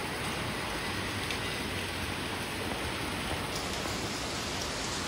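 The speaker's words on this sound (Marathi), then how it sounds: "आणि असा हा डेंजर पाऊस पडतोय रात्रीपासून." Heavy rain pouring steadily at night, a dense, even roar of drops with no breaks, fairly loud and constant throughout.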